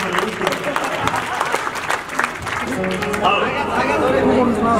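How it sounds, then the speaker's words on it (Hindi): Audience applause at a live Haryanvi music performance, steady clapping from a crowd with chatter mixed in, loud and continuous throughout. "अगर बात अच्छी लगे तो ताली जरूर बजाइएगा"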